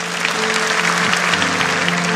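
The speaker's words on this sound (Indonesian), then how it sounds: "Kasih tepuk tangan untuk Tuhan" A church congregation applauds during a sermon, a dense, steady wash of clapping from a large crowd, with a sustained musical tone underneath.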